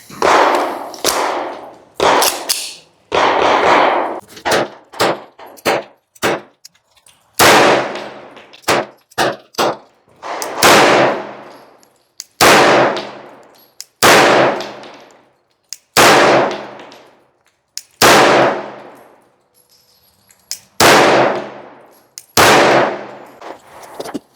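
A PSA Dagger Compact pistol fitted with a compensator fires many loud, sharp gunshots outdoors, in quick single shots and short strings with brief pauses and ringing decays.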